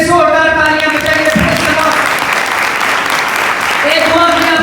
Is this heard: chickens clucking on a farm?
no